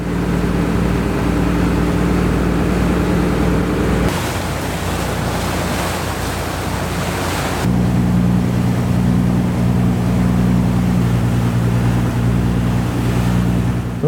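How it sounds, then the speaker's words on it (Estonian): A fishing boat motors out to sea on a sunny day in Thailand, its steady engine drone running loud and continuous beneath wind and rushing water, the hum shifting pitch partway through without a break. "Astusime paati ning peagi sõitsime merele."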